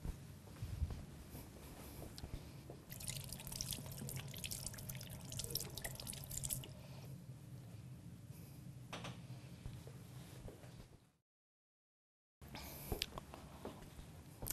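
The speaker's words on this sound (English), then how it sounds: "And then we have to wash our hands." Running tap water splashes steadily while hands are washed at a sink in a clinical setting before a blood pressure check, a soft continuous flow with small drips, broken by a brief silent gap near the end.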